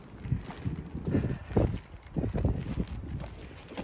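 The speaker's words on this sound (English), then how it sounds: "Very, very windy today." Strong wind on an allotment buffets the microphone in rough, uneven gusts, with low rumbling bursts rising and falling throughout.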